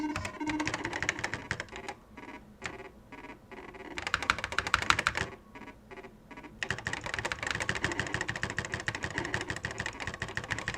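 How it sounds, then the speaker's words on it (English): Rapid, loud clattering of an Apple IIe computer's mechanical keyboard being typed on in bursts, with brief pauses between runs of keystrokes. "My apologies if the keyboard is a bit loud,"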